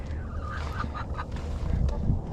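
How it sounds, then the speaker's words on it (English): Backyard chickens, including gray hens, clucking steadily and waiting to be fed, with a few louder calls standing out over a continuous low rumble of background noise. "Chickens are telling me that they're ready to be fed."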